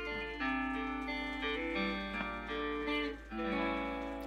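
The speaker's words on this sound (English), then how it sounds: "We have the acoustic flat top guitar," A steel-string acoustic flat top guitar plays a short melodic phrase of bright, ringing plucked notes that overlap and sustain, heard up close and alone.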